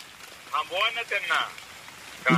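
Steady heavy monsoon rain patters on surfaces in the background at a roadside construction site in Talmachiwadi, while a person speaks over it in short phrases.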